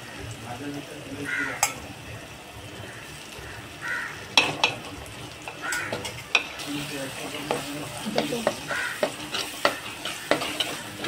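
Stirring a masala of ginger, garlic, chili and half a raw mango in a sizzling pan, frying hiss underneath with irregular scraping and clinking of a spoon against the pan, close and moderate.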